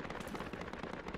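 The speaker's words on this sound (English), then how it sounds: "That one AK firing off a single shot?" Gunfire from an AK rifle in Project Reality, a dense run of sharp cracking shots crowded close together through the short clip, loud and near.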